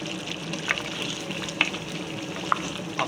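Small onions go into a pan of browned beef for a salan, giving a steady close sizzle and bubbling with a few faint clinks of stirring.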